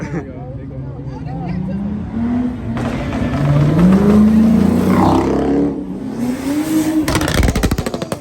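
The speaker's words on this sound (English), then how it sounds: "Neptune gonna do a burnout." A car does a burnout, its engine revving hard in rising and falling pulls that get louder and rougher toward the end. It is close and loud, with excited voices around it.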